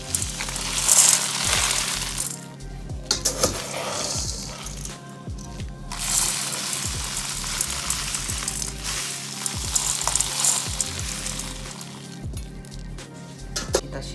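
A whole chicken set down into hot salt in a wok gives a broad crackling, sizzling hiss with soft squishing shifts, steady and close throughout.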